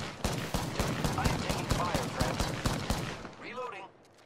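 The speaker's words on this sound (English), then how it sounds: "Getting shot at." Rapid automatic gunfire in the video game Apex Legends, a dense burst of sharp shots for about three seconds before fading, with voices speaking toward the end.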